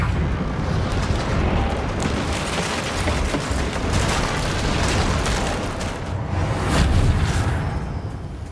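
Confringo and Bombarda spell blasts in Hogwarts Legacy rumble and burst continuously, loud overlapping explosions with crackling debris and booming low-end throughout, without talk.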